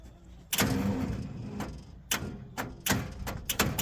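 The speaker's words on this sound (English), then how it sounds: "let's see if we can get this motor to turn over here" An Asplundh JEY wood chipper's engine cranks over in several short, uneven bursts separated by pauses, loud and close, with clicks and knocks between attempts.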